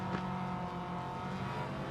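Race cars lap the Nürburgring in Gran Turismo 7 during the Japanese 4WD Challenge 600, their engines a steady, close, buzzing drone with no talk over it.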